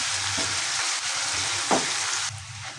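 Food browns in an open pan for daal with bottle gourd, giving a steady close sizzle and frying hiss with a couple of brief stirring scrapes and no talk.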